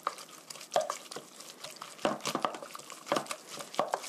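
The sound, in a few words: mixing egg with salt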